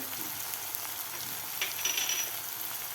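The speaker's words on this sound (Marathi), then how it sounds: "मसाले घातल्यानंतर सुद्धा आपल्याला व्यवस्थित मिक्स करून घ्यायचं आहे" Spices being stirred into a tomato and cluster bean (gawar) vegetable mixture frying in a pan, a steady close sizzle with light scraping and stirring sounds throughout, no voices.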